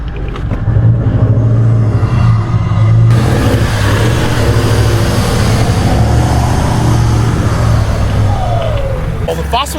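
An off-road car labours up a hard, rough track, its engine droning loud and steady throughout, growing fuller as it pulls harder partway through, with a brief rising whine near the end.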